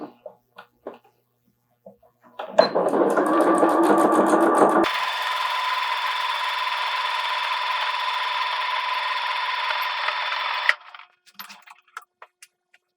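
A sewing machine stitches fabric for a patchwork pouch, a close, loud mechanical whir lasting about eight seconds that shifts to a higher pitch partway through, with small clicks and handling noises before and after.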